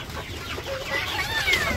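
Chickens clucking in a village coop, a busy mix of soft, overlapping clucks and calls that carries on steadily throughout, with no talk over it.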